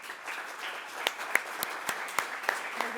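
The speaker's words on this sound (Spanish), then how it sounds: "me gustaría que les demos un gran aplauso a cada uno de ellos" An audience applauds award recipients at a mental health forum with a moderate, steady patter of clapping and a few louder, nearer individual claps standing out.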